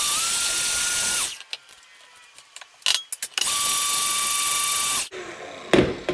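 An electric mixer whirs steadily through cheesecake filling with lemon juice and vanilla, running in two loud bursts that stop abruptly, with brief clatter and handling noises between them.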